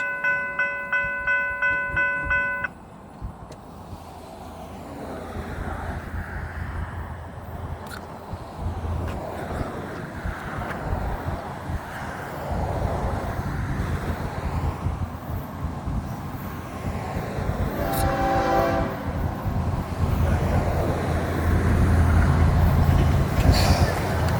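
A northbound FEC freight train rumbles past close by, a steady heavy roar building over time, with a brief horn-like tone near the start and a screech later.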